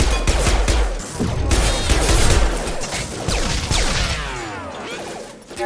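Dense gunfire from Mass Effect 2 during a firefight against enemies, with rapid overlapping shots, impacts and crashes under an ongoing combat soundscape, loud and continuous throughout.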